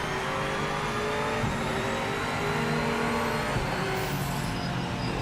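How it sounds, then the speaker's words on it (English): A BMW race car in the Project Motor Racing game drones under load, its engine note holding steady with faint tire noise and other cars around, moderately loud and without voices. "That BMW was about as twitchy as the Corvette, but I love the way that car sounds."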